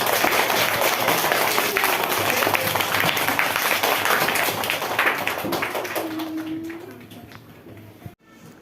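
Classroom audience applauding a student's advertisement presentation, a dense, steady wash of many hands clapping that gradually thins and fades out over the last few seconds.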